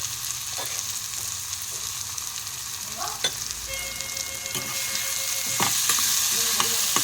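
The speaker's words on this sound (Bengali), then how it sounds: "সসটা দিয়ে আমি আবারও এর সঙ্গে খুব ভালো করে নেড়ে চেড়ে মিশিয়ে নেব" A taco filling fries with about two spoons of tomato sauce while being stirred, a loud close sizzle broken by repeated spoon scrapes and clinks against the pan, the frying growing slightly stronger toward the end.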